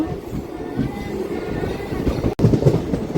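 A single-coupled DEMU train on the Nandyala to Kurnool line rumbles and rattles steadily while moving, with rhythmic wheel clatter close by and a brief drop-out near the end.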